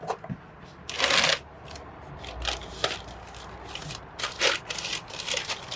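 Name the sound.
unboxing a package of Swift lowering springs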